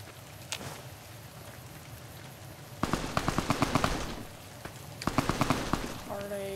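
Gunfire in the video game Fallout: New Vegas in the Mojave Wasteland: two rapid bursts of automatic shots, each a quick string of sharp cracks, over a steady ambient background.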